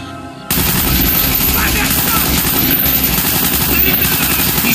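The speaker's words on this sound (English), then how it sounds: "Mason, fire when ready." Sustained, loud machine gun fire from a helicopter in Call of Duty Black Ops, a dense continuous roar of rapid shots that starts abruptly after a brief pause and keeps going without a break.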